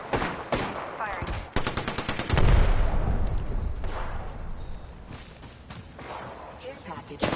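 Gunfire in a PS4 battle royale match, with rapid automatic bursts of shots, some heavier booming reports and thuds, all loud and close, while a game voice talks over parts of it.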